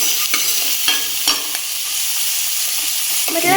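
Rajasthani pakoras sizzle in hot oil, a steady bright frying hiss punctuated by occasional stirring clicks and pops, close up and without talk.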